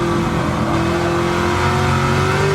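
Loud, close onboard roar of the Stielow Engineering Red Devil Camaro race car's engine held under throttle, with a rising whine and a continuous drone as it pulls through the gears.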